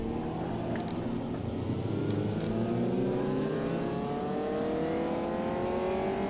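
Sustained engine note of a race car in the Automobilista 2 driving sim, climbing steadily in pitch as it accelerates through the gears, loud and close throughout with no talk.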